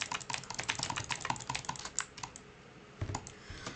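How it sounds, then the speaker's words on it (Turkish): Rapid clicking from a computer mouse during a Bedwars game, a close burst of sharp crisp clicks in quick irregular succession, pausing briefly, then a final cluster, with no talk. "Bu arada mouse sesi duyuluyordur büyük ihtimal"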